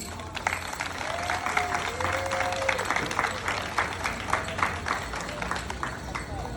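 An outdoor festival crowd honoring coal workers breaks into sustained applause, a thick continuous patter of many hands, with voices and a few whoops mixed in.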